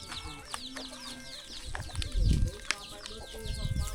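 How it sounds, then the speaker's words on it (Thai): Ducks feed in a village beside rice fields and hills, giving a busy mix of quacks, clucks and chirping calls, with a low voice now and then in the background. "เป็ดมันจะกินเนาะ"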